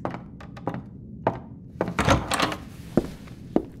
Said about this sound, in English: She walked down the hallway to the toilet and opened the door.